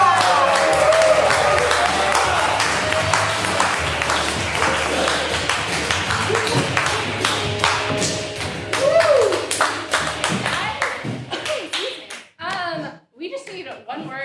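An audience claps and cheers for an improv comedy team as it takes the stage; dense, loud applause fills most of the stretch, then thins into scattered claps near the end.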